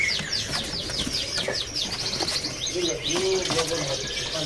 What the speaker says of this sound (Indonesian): Di kios ini ada burung SRDC ya, SRDC dari Bali